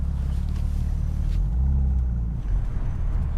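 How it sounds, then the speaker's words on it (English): A BMW M3 CS on the move puts out a deep, continuous exhaust drone with a slight swell in the middle, heard steady and close from inside the car with no talking. "It's a very aggressive sounding exhaust, very loud in your face"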